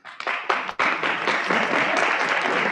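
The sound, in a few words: audience clapping for a robot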